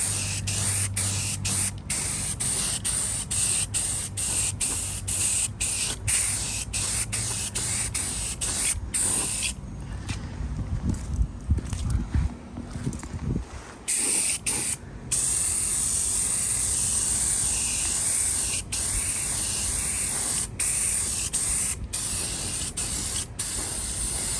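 Aerosol spray paint hisses in repeated bursts over a Schauer Model B4612 battery charger being restored, steady close hiss broken by short pauses between passes, with light coats going on and no talking.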